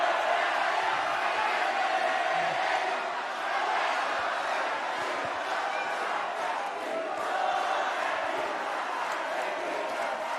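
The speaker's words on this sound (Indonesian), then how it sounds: "tepuk tangan yel-yel silahkan" A debate audience for a gubernatorial race fills the hall with loud, continuous clapping and rhythmic chanted cheers, a dense crowd roar that barely dips from start to finish.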